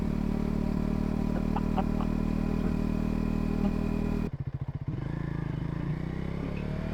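A motorcycle engine runs steadily while riding in first gear, one of a GB350S, Speed 400 or Scrambler 400X. A dense, continuous rumble with a brief choppy dip midway, then it settles back to a steady drone.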